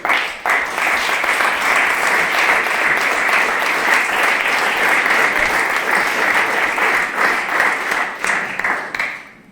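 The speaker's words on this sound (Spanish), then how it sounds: "Solo pido un fuerte aplauso a todos los que estamos aquí" Loud, sustained applause from a crowd, dense rapid clapping throughout that tapers off at the end.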